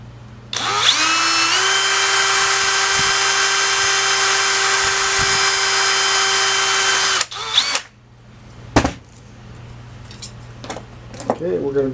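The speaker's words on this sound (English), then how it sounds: "And drill the second one." A power drill runs loud and steady for about six and a half seconds, boring the second hole in a metal sensor bracket for a Sonex aircraft, then cuts off, followed by a few sharp clanks and handling noises in a workshop.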